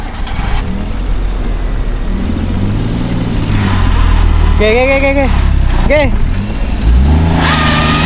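Car engine revving hard while stuck in sand at the sea, a steady low drone with rising surges under talk and voices, in rain and cold weather.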